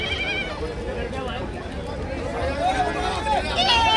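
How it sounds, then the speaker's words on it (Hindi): Goats bleat amid a noisy crowd at a goat market in Rajasthan, their wavering cries rising over constant chatter and babble from many people nearby. "ये देखो सामने एक बकरा खड़ा है"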